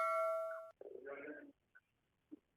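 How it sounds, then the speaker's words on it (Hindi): A bell at a gate gives a sustained ringing tone, followed by a rumbling clatter and a couple of faint short knocks, heard from a distance, with no talking. "घंटी गेट पर बज रही है कि नहीं है"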